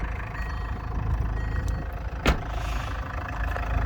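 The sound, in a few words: Range Rover Evoque 2.2 turbo diesel engine running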